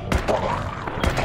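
Fallout 4 gunfire sounds as two sharp shots about a second apart, each a close thump with a bright crack, while a voice talks in between.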